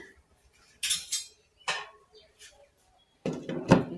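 A lid is set onto a pot of cooking meat curry with a few close metallic clanks and scrapes, separated by short pauses, ending in a louder clatter.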